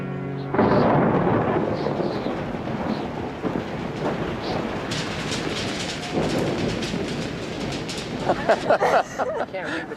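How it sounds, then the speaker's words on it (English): Rain and a thunderstorm in the Gobi Desert, a loud continuous rumbling roar that starts abruptly and rolls on, with heavy wash and crackle toward the end and a voice speaking over it. "it's raining"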